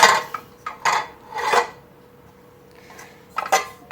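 Pans from a new cookware set being handled, giving several short metallic clanks and scrapes in quick bursts with quiet gaps between, close and fairly loud.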